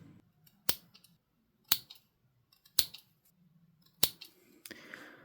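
Victorinox pocket knife scissors snip four times in sharp, close, crisp bursts spaced about a second apart, with a faint low hum between cuts.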